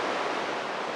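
Upper Mesa Falls in Idaho, with about 2.5 billion gallons of water a day pouring over the edge, produces a continuous broad roar, loud and unbroken, with no voices.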